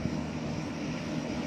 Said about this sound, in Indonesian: Susi Air baru saja mendarat Bumi Arung Palaka.